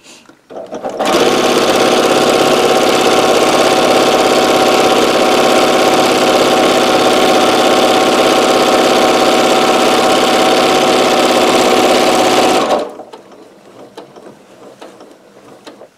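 A sewing machine runs steadily for about twelve seconds, stitching corner to corner through layered fabric for a microwaveable bowl potholder, loud and close, then stops abruptly, leaving faint handling sounds.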